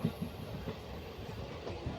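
Steady low rumble of the Mangalore Intercity Express running between Coimbatore and Kozhikode through a forested ghat section, heard from inside the train with faint wheel clatter and no talk.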